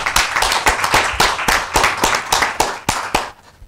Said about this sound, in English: Let us applaud the professor before he takes off.